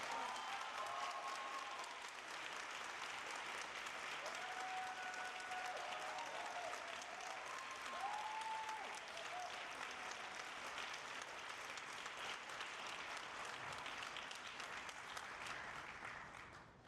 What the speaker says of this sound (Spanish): acompáñenme a darle un enorme aplauso de nuevo a Rita Segato